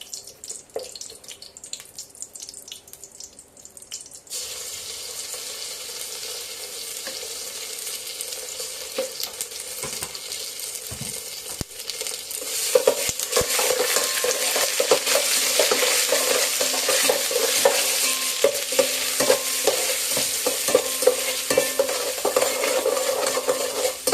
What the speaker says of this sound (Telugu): ఒక 2 మినిట్స్ వేగనివ్వాలి. అల్లం వెల్లుల్ని పచ్చి వాసన పోయేదాకా వేగనిద్దాం.